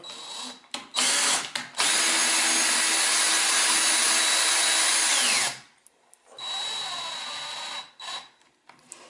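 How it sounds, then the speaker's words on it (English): A power drill spins the lead screw of a C-Beam linear actuator kit, whirring loudly in short bursts, then a long sustained run, a pause, and another shorter run, close by. "You can chuck the drill onto the end again."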